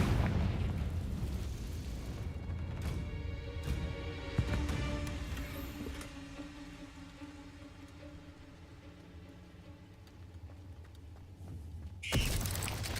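A Confringo spell detonates in a video game, a loud booming blast that decays into a long rumbling, crackling tail, with a second sharp burst near the end.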